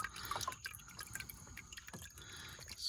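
Used motor oil drains from the sump during an oil change, a faint continuous trickle with scattered drips and small splashes and no talk.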